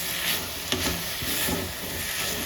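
Coconut filling for modak is roasted and stirred in a hot pan, producing a continuous close sizzle with spoon scrapes and one sharp tap against the pan, heard alone without speech.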